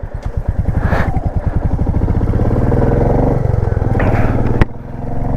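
A motorcycle rides the high mountain road from Hanle to Umling La Pass in Ladakh, its engine loud and close with a fast, steady throbbing that rises in pitch, then a sharp knock near the end.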